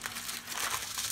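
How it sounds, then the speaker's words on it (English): Aluminum foil crinkles and rustles steadily as it is folded and wrapped around a competition practice brisket, a continuous close crackle lasting about a second with no talking. "make sure when you wrap it in your foil"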